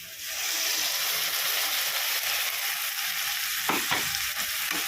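Loud, continuous sizzling and hissing from a hot pan sautéing tomato paste sauce for chilli chicken, with occasional scraping stirs near the end and no talking.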